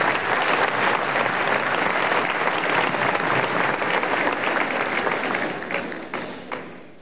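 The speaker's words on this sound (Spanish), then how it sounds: "quiero que le demos un aplauso de reconocimiento." Large crowd applauding at a medical graduation ceremony in Caracas's Poliedro arena, a dense, loud and sustained roar of clapping that thins out near the end into a few scattered claps.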